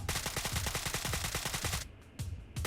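A friend fires an automatic weapon in PUBG Mobile, loud and close, with a fast even stream of shots that stops briefly and then returns as a few single shots.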